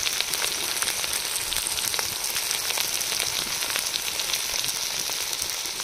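A paste of ground cumin, chili, salt and turmeric fries in a pan outdoors, giving a loud, dense, continuous sizzle with scattered crackles and no pauses.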